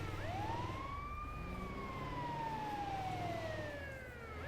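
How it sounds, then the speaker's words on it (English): An ambulance siren in the video game GTA 5 wails in a single long, smooth rising and falling sweep over a low engine rumble. It is loud and steady throughout, with no talking. "I'm kind of annoyed by the ambulance siren already"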